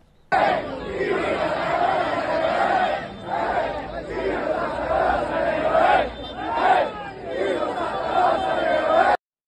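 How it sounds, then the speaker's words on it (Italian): A dense street crowd celebrates in Piazza Europa, Catania, after the city's football club wins promotion to Serie C. Loud, continuous chatter and cheering voices swell and dip in waves throughout. "la folla si riversa in strada, festa in piazza Europa"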